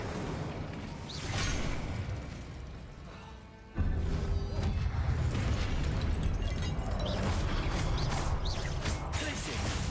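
Incendio fire spell cast in the video game Hogwarts Legacy, a sudden whooshing burst that jumps in loudness partway through and roars on alongside crackling combat effects and a player's voice.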